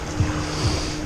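A boat on a Lake Baikal excursion rumbles along over water, with steady low engine hum, wind buffeting and a couple of soft thuds as waves slap the hull, heard from on board.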